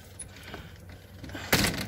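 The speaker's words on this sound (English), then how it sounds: "And, alright, shut the door." A car door is shut with a single short, solid thud, preceded by faint rustling and small handling sounds close by.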